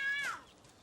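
A cartoon cat gives a single short, falling meow, loud and close, that fades quickly into quiet.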